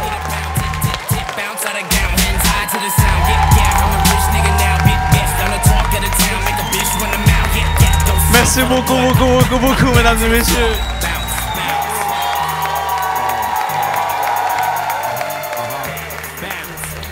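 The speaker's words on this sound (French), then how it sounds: "Un tonnerre d'applaudissements à tout le staff du National." A comedy audience at the National theatre applauds and cheers a one-man show, a loud sustained roar of clapping and voices with music underneath, while the performer speaks over it in French.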